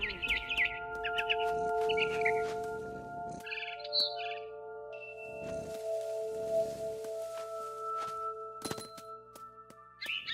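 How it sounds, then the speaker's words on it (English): Bird chirps from a barn swallow in the game What Remains of Edith Finch, short bright tweets early on and again near the end, set against steady tonal game music with a few soft thuds. "Then I heard chirping outside my window. It was a barn swallow going back to her nest."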